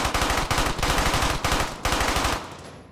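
Loud, close machine gun fire in the video game Brothers in Arms: Hell's Highway comes in several rapid bursts back to back, each a dense rattle of shots, fading out at the end with no voices.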